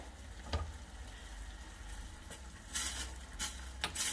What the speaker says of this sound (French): je vais mettre ma truite dans la poêle et je vais laisser frire sur un feu moyen